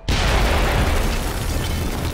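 A loud explosion in the video game Splinter Cell Conviction bursts suddenly and then roars into a sustained, close, broadband rumble that slowly fades.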